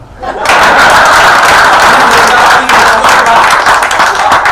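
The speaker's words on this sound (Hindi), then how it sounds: "अब दादा का उत्तर सुनना और इनके लिए तालियां बजा देना।" Loud, continuous applause and clapping from an audience at a Hindi comedy poetry (hasya kavita) recital, starting abruptly and holding steady throughout.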